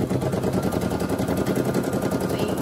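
A Brother SE 1900 embroidery machine sews a placement stitch on a baby onesie for an appliqué, giving a rapid, steady mechanical needle chatter, close and loud, with no talk.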